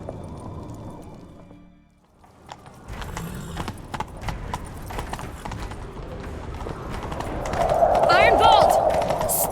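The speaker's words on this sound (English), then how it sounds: "Grab a horse, we'll chase him down." Hooves clip-clop in a fast galloping rhythm as several horses run in The Witcher 3: Wild Hunt, growing louder toward the end, with voices talking over them.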